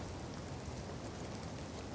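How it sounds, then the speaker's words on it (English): Rain falls steadily in a forest, a dense, even hiss of drops on leaves and ground, soft and unbroken throughout, with no voices. "It's been raining the whole time"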